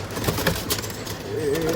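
Pigeons coo close by in a loft where baby pigeons are kept, a soft continuous murmur over broadband background noise and faint voices.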